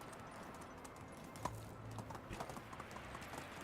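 Horse hooves in the medieval village game Medieval Dynasty, a quiet steady clip-clop of hoofbeats at a trot, faint and even in rhythm beneath a low background.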